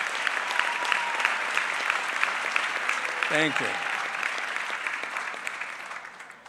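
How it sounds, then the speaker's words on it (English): Steady applause from a graduation crowd honoring school staff and administration at a John J. Duggan Academy ceremony, sustained and even throughout, with a brief spoken thanks over it partway through. "give your wonderful staff and your administration a big round of applause"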